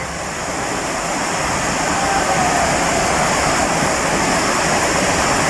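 Chitraruvi waterfall at Kutralam roars loudly and steadily, a dense, unbroken rush of falling water close by, with no voices.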